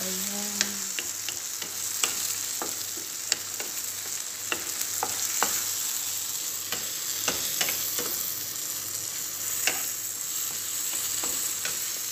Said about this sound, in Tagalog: Ang bilis lang ng paggisa ko